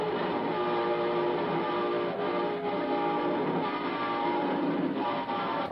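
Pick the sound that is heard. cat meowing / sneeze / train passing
train passing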